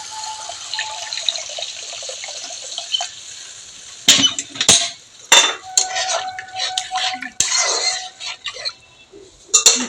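Water is poured into a pan of cooking sarputi fish being made into a mustard paturi, splashing unevenly with metallic clinks of utensils, growing louder partway through.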